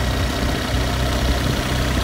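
A motorcycle engine drones steadily while climbing a road near Petra, a loud continuous low rumble with no pauses.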